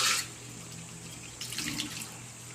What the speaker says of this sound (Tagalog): lagyan natin ng 2 basong tubig